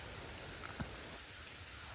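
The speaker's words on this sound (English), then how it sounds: "The rain is set in, we think." Rain falls steadily on the Lumber River in a dense, even hiss that stays constant throughout, with no voices.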